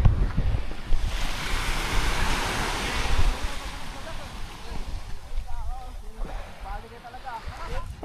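Surf rolls onto a beach in Zambales near Pundakit, a broad wash of breaking waves with wind buffeting the microphone, while people chat over it.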